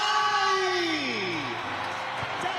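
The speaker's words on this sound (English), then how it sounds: "The biggest cheer of all." A large crowd roars at the opening ceremony of the 13th ASEAN Para Games in Korat, Thailand, a loud, sustained wash of cheering and yells, with a falling whoop early on.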